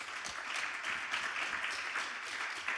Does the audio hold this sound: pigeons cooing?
no